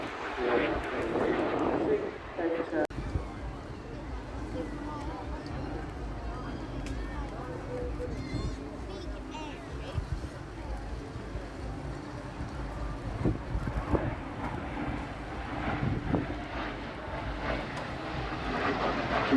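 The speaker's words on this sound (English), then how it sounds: "that's his trademark in knife edge low level pass just to get going." An airplane roars through a low-level knife-edge pass at the Eastbourne Air Show 2024, loud and sustained with wind buffeting the microphone and a voice talking over it.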